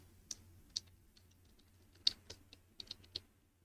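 Quiet, scattered clicks of keys being pressed on a computer keyboard, a few uneven taps close by with no voices.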